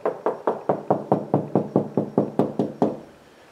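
A knuckle raps a wall in a quick, even series of about twelve close, hollow knocks, then stops and leaves a quiet tail.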